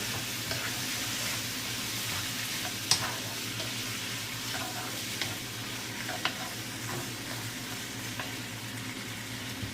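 Seafood stir-fries in a pan with rice wine and seaweed, giving a continuous sizzle and scraping stirs with a few sharp utensil clicks against the pan, moderately loud and without talk.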